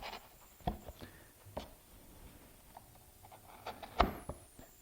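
A carving tool cuts away wood while roughing out an iris relief, making faint, scattered scraping and chipping sounds with a few sharper cuts between quiet pauses.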